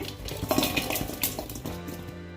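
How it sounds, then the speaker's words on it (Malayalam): Ground tender mango for pickle being scraped from a grinder jar into another bowl, with busy clinking and scraping of a spoon against metal vessels, close and fairly loud, settling quieter near the end. "മാങ്ങ എളുപ്പത്തിൽ മിക്സ് ചെയ്യാൻ വേണ്ടിയിട്ട് ഞാൻ വേറൊരു ബൗളിലേക്ക് മാറ്റുകയാണ്"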